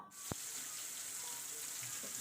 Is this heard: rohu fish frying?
yes